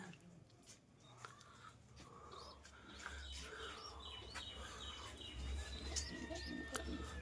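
Pigeons in a loft with breeding lines and squabs, soft cooing and scattered chirps against a low background hum, faint and continuous.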